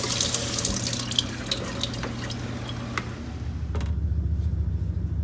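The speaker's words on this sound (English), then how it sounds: "I'm going to rinse it again just to show you" Asparagus spears are rinsed under a running kitchen tap in a colander, with a steady rush of water splashing close and moderately loud throughout and the spray shifting in tone partway through, with no talk.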